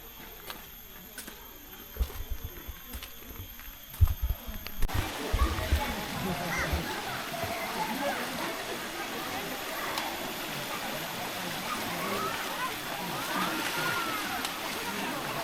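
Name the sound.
river water flowing at La Hot Spring, Besut, Terengganu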